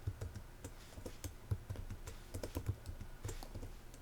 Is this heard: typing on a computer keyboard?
yes